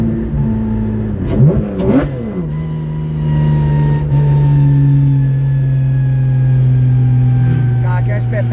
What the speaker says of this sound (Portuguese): Você pisa, ó, o carro vai levantando a velocidade, ó.